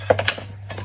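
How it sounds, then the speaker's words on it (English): Chuck on a hammer drill being pulled back to fit a 6mm bit, giving a few quick mechanical clicks and ratcheting snaps over a steady low hum, close and fairly clear. "If you got one of these, pull the chuck back,"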